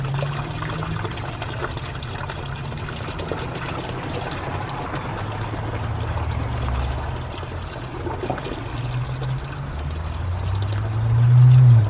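Water from an aquaponics tank dumps down from the top, a steady rushing pour with a low gurgle that builds slightly toward the end. There is no talking.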